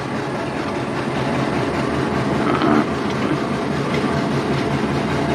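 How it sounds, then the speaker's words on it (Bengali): The Benapole Express rolls past the standing Chitra Express in Bangladesh, making a loud, continuous rumble with wheel clatter and wagon noise close by for the whole stretch. "দেখুন ট্রেনটি ধীরে ধীরে আমাদের চিত্রা এক্সপ্রেস ট্রেনকে ছাড়িয়ে যাচ্ছে।"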